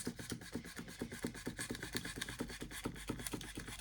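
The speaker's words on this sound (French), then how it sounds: "si vous n'aimez pas le bruit du polystyrène" Polystyrene foam is cut for a scrapbooking castle advent calendar, giving a rapid rhythmic squeaking and scraping that repeats steadily at close range, fairly quiet overall.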